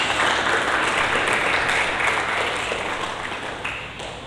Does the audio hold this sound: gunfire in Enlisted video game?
no